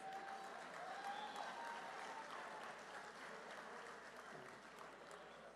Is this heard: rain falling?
no